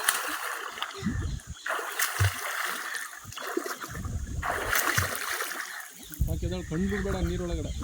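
Flowing river water splashes and churns nearby, with bursts of splashing as someone swims against the current, and people talk and call out over it.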